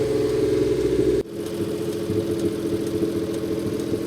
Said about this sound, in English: rev real high, and then it'll gradually go back down to about 700 or 800 RPM